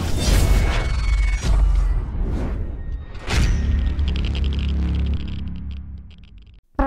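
A grenade blast in the World War II game Gates of Hell: Ostfront, with a loud low boom rolling out alongside a couple of other heavy thuds and sweeping debris noise, close and dense, with no voices.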